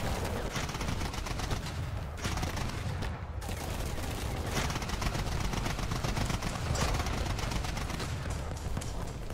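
Dense, continuous gunfire from a video game firefight, a sustained rattle of overlapping shots with a few brief dips, fairly steady and moderately loud throughout.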